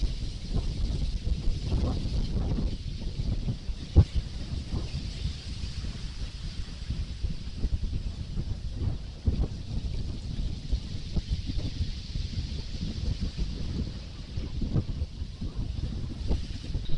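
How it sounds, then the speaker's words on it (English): Strong wind buffets the microphone on Eastney beach during a sea fishing match, a continuous rough rumble with gusty thumps, steady and close throughout. "The wind's starting to get up even more"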